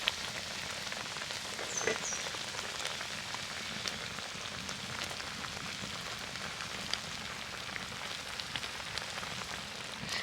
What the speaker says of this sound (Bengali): তো এইরকমভাবেই ফুটতে থাকুক, আর চাপা দেবো না।